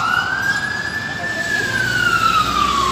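Fire truck and police sirens at a large fire in Makati, a loud wailing siren rising and falling slowly, with traffic rumble and some voices in the background.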